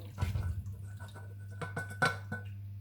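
Homemade brown veal stock being poured through a fine chinois sieve in a kitchen: liquid trickles and splashes with a few sharp metallic clinks of pot and strainer over a low steady hum, no talking.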